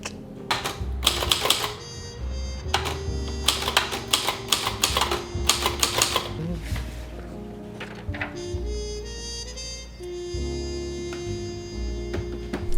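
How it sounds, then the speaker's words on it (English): Keys clack on a manual typewriter in quick irregular bursts with occasional pauses and a carriage-like sound near the end, close and alone. "one of the things that I want to do is type on my typewriter all of this"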